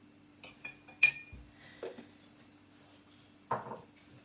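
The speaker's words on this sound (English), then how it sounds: "get a large teaspoon and put it into the glass" A large metal teaspoon set into a drinking glass while making tea, giving a few sharp, bright clinks and light knocks spaced over a few seconds, close and fairly quiet, with no talking.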